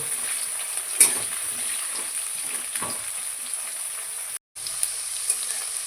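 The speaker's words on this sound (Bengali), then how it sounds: "আলুগুলো লাল লাল করে ভাজা হয়ে গেছে" Potatoes fry in mustard oil in a wok with a continuous bright sizzle and bubbling, a couple of soft stirring knocks, and a brief dropout near the end.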